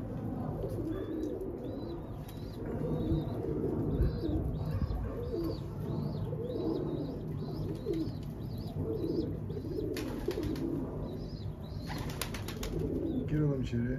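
Pigeons coo repeatedly in a soft, rhythmic pattern with occasional wing flaps, set against a low steady hum of the surroundings.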